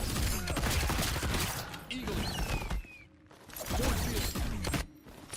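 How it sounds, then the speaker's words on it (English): Peacemaker fires a gunshot in Mortal Kombat 1, with sharp bursts and mechanical clatter amid dense fighting-game effects, a brief lull, then more impacts, under someone talking. "you can like spin the second bar and get a gunshot"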